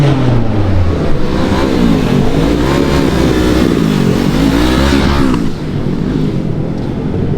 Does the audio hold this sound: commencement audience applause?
no